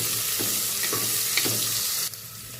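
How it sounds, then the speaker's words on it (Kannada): Chopped onions frying in hot oil in a pan for a vegetable kurma, a continuous near sizzle with a few stirring scrapes and a brief clatter near the end. "ಈರುಳ್ಳಿ ಸ್ವಲ್ಪ ಫ್ರೈ ಆಗಲಿ"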